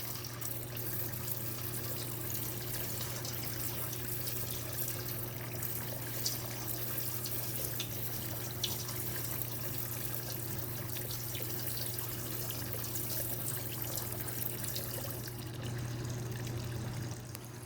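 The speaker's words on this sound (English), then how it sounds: "we're going to go ahead and pour this into our apparatus here to form some more silver granules" Molten silver poured into a water-filled granulating apparatus with a submersible pump, giving a steady, continuous rush and trickle of water with a low hum underneath throughout.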